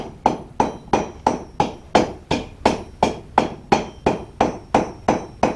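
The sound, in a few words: blacksmith hammering hot iron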